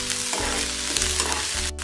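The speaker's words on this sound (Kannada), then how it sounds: "1 ನಿಮಿಷ ಚೆನ್ನಾಗಿ ಫ್ರೈ ಮಾಡ್ಕೊಳ್ಳಿ ಮತ್ತೆ 1/4 ಸ್ಪೂನ್ ಅಷ್ಟು ಶುಂಠಿ ಬೆಳ್ಳುಳ್ಳಿ ಪೇಸ್ಟ್ ಹಾಕೊಂಡಿದ್ದೀನಿ" Ginger garlic paste frying in a pan for baby corn manchurian, a loud steady sizzle with stirring strokes underneath, close and continuous throughout.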